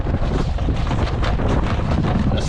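A strong, steady wind gust roars over a sailboat near a lee shore, loud and continuous, buffeting the microphone throughout with no voices.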